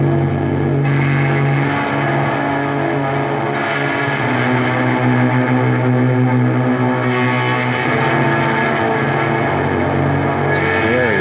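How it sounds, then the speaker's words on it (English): A lo-fi signal run through a distortion effect, a dense, loud, continuous buzzing drone with sustained tones that shift and slide over time, steady in level throughout with a brief change near the end. "Distort the signal as well."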